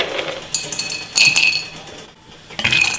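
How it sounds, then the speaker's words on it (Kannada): Tablespoons of peanuts tipped into a metal pan for roasting, giving bright clinks and rattles in a few bursts with a short pause between, close and fairly loud, no talk. "ಇದಕ್ಕೆ ಒಂದು ಎರಡು ಟೇಬಲ್ ಸ್ಪೂನಷ್ಟು ಶೇಂಗಾ ಹಾಕ್ಕೊಳ್ತಾ ಇದ್ದೀನಿ"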